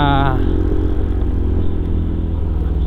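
A motorcycle rides a mountain road between Baguio and Atok, Benguet, its engine a loud, close, steady rumble throughout, with voices talking over it.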